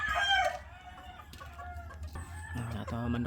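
Talisay chickens at a farm, with hens clucking and a rooster crowing close by, the calls overlapping in irregular bursts under faint background noise.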